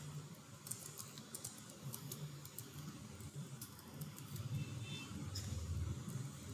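Someone types code on a computer keyboard, producing soft, irregular key clicks in short bursts over a faint low hum, fairly quiet and without talk.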